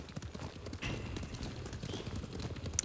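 Hooves clip-clop in a steady trotting rhythm as a horse carries its rider toward Toyotama in Ghost of Tsushima, the footfalls moderately close and unbroken by talk.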